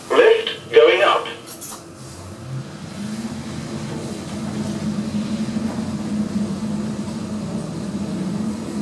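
A lift in a mixed-use building rises from the car park, giving a steady, moderately loud mechanical hum that builds and holds for several seconds after a brief voice and a couple of clunks at the start.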